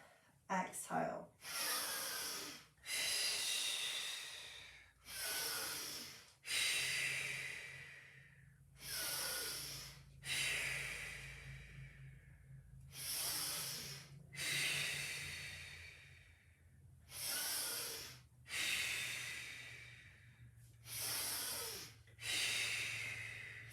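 Rhythmic breaths during a Pilates exercise, with about a dozen forceful, airy exhales spaced a second or two apart, close and clear against a quiet room.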